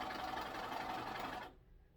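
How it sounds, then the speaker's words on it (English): An overlock machine serges and trims the raw edge of fabric for a fitted tube skirt, a fast, even whirring stitch heard close up that stops abruptly after about a second and a half. "my overlock machine to cut off just barely anything off the edge."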